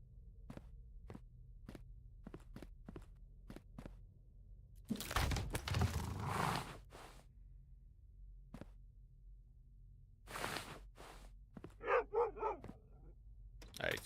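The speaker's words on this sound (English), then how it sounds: "I hear the dog, I don't see the dog." Sharp dog barks from a video game, a steady run of short single woofs early on, then later isolated barks, with bursts of other game noise and a rougher growl-like sound in between.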